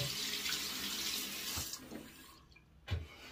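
Tap water runs steadily at a sink during a wet shave, a broad continuous hiss that eases off near the end, with a couple of small splashes and clinks.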